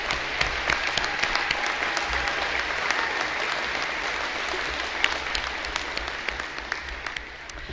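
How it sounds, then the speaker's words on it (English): An audience at an outdoor bison range celebration applauds in a loud, sustained burst of many clapping hands, which thins slightly toward the end. "we just need to take a moment and applaud them"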